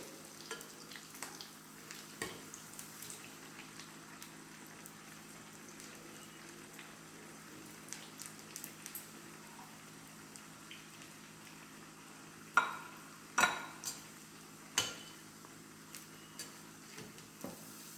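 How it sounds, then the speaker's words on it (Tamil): Paruppu vadai fry in hot oil with a steady soft sizzle, punctuated by occasional sharper pops and stirring clinks that grow louder toward the end. "பொரிச்செடுக்கணும்."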